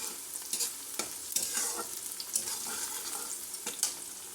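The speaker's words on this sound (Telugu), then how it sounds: "ఆయిల్లో పచ్చివాసన పోయే వరకు 1 నిమిషం ఫ్రై చేసుకుందామండి" Ginger garlic paste frying in hot oil, a steady close sizzle with intermittent scraping strokes of a spoon stirring through the pan, no voices.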